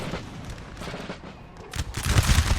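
Soldiers fire their guns together in a ragged volley of overlapping shots, loud and close. The bursts grow denser and heavier toward the end.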